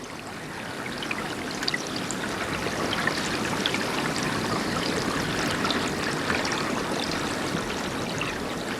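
A river in Arnhem Land flows with a steady, full rush of water, a continuous close burble and splash that never lets up, with no voices.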